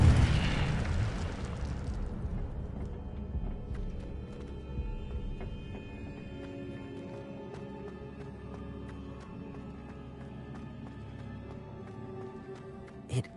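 An Incendio fire spell bursts in Hogwarts Legacy with a loud, broad fiery whoosh at the start that fades over a couple of seconds into a lower crackling rumble, with small scattered clicks and a brief pop near the end.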